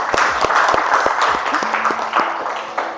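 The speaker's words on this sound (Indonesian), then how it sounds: "berikan tepuk tangannya" A class of students claps for a classmate named Farhan, a short, loose burst of hand claps with distinct individual slaps, fairly close and fading after a few seconds.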